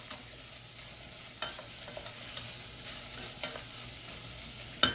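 Chopped vegetables cooking in a pan for baked spaghetti make a quiet, continuous crackle, broken by occasional scraping stir strokes and a sharper clack at the end.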